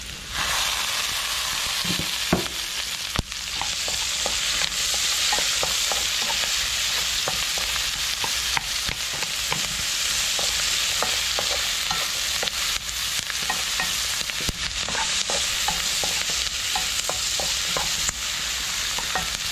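Ginger sautéing in a hot pan gives a steady, loud broadband sizzle with repeated utensil scrapes and stirring clicks throughout, and no voices.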